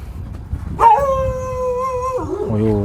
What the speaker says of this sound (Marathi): इथे एक डॉग आहे आपला काय नाव आहे लाल्या लाल्या